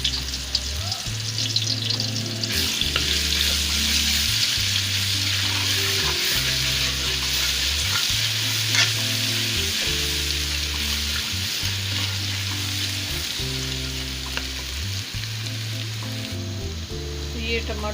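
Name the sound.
garlic ginger paste frying in a karahi for beef karahi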